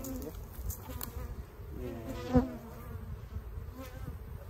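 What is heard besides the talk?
honey bees buzzing around an opened beehive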